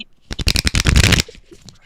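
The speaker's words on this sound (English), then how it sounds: "Look at him shuffle his deck." A deck of cards being shuffled close up at a table, a quick flurry of riffling snaps lasting about a second, then settling into quieter rustling.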